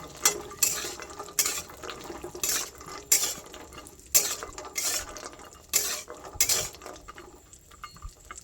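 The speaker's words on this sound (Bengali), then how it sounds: "এবার আমি এগুলোকে ভালোভাবে ভেজে নেব।" Almonds and cashews fry in a pan. A spatula scrapes and clanks against the metal in a steady stirring rhythm of sharp strokes over a soft sizzle, close by, with no voices.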